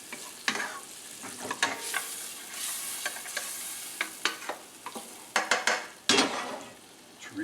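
Chorizo sausage sizzles in a pan with tomatoes, onion and garlic under a steady frying hiss, while a utensil stirs and scrapes against the pan in irregular, close, sharp knocks.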